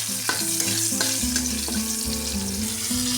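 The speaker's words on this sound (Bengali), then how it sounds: "এবার এখানে আমি কাঁচা লঙ্কাগুলোই ফোড়ন হিসেবে দেবো।" Green chillies tempering in hot oil with fried hilsa fish head, a busy close sizzle and crackle of frying with stirring scrapes and clinks of a utensil against the pan, with no talk.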